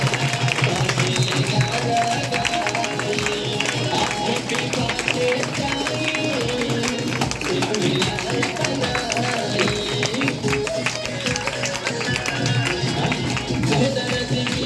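At a DXN program in Bhagwanpur, Uttar Pradesh, a crowd claps steadily for a long stretch. The applause is a dense, even patter, with voices and crowd noise mixed in throughout.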